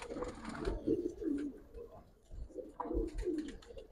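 A male Giribaj pigeon coos near, in two low rolling phrases separated by a short pause, with faint background noise and no talk.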